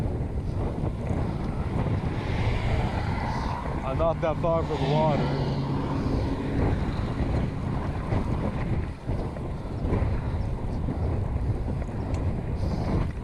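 Wind buffeting a GoPro microphone on a Univega 26 fixed-gear conversion ridden near the bay: steady, loud low rumble throughout, with someone talking over it.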